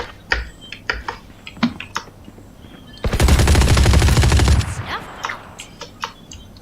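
Video game gunfire: a loud sustained burst of rapid automatic shots lasting about a second and a half, surrounded by sharp clicking taps before and after.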